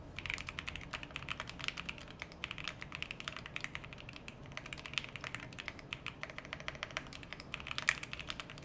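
Rapid, continuous clicking of keys on a computer keyboard, close and fairly quiet, in irregular bursts with brief pauses and no talking.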